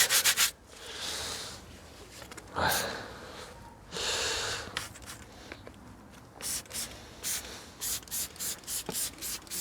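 A tyre brush scrubs a car tyre during wheel cleaning, with several bursts of harsh bristle rubbing followed by a run of quick, evenly spaced short scrubbing strokes, close and fairly loud.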